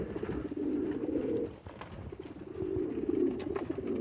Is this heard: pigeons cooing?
yes